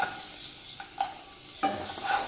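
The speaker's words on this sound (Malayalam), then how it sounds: "ചെറിയ ഫ്ലെയിമിലിട്ട് നല്ലോണം ഒന്ന് ബട്ടർ മെൽറ്റ് ചെയ്യുമ്പോൾ നമ്മൾ ഈ വെളുത്തുള്ളി ഇട്ട് കൊടുക്കുന്നു" Garlic dropped into butter melted with oil over a low flame sizzles steadily and quietly, with a few soft stirring scrapes and a sharper burst of frying partway through; no one speaks.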